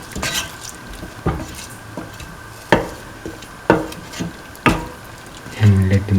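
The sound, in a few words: mixing rice mixture in a pot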